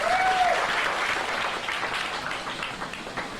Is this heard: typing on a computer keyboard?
no